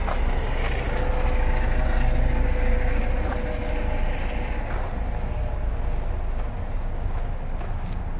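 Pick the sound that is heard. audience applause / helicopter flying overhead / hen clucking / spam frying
helicopter flying overhead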